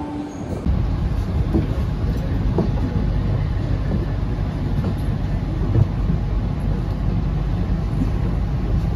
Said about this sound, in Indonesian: Tuh, kereta gue udah datang tuh.